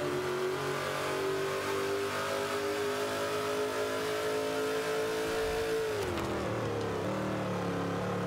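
A 2012 Dodge Challenger SRT8 muscle car engine in Forza 5 at Sebring, holding a loud sustained drone that builds steadily, then drops sharply as the engine note falls near the end.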